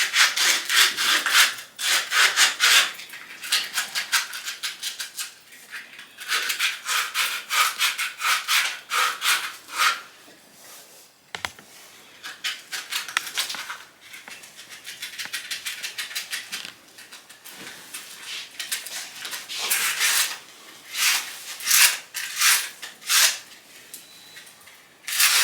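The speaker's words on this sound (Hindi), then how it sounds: "ये जो पोर्शन है इसको रब करना है" A damaged conveyor belt surface being rubbed down by hand before a bonding repair, a steady run of rapid, gritty back-and-forth scraping strokes with short pauses, close and fairly loud, no talking.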